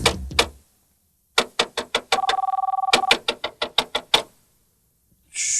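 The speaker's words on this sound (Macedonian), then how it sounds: "Таман се фане за работа, телефонот зоне." A telephone rings once in a short buzzing trill, close and clear, among a run of sharp rhythmic knocks and clicks that stop before a brief hiss.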